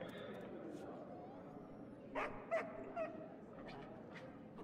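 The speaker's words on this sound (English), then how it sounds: "Dog was running with me." Three short dog barks in the video game Pathfinder: Kingmaker, spaced about a second apart over a background ambience, with a brief word spoken nearby.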